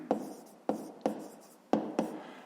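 Pen strokes as a math solution is written by hand, five short scratchy bursts at irregular intervals, close and clear with no voice.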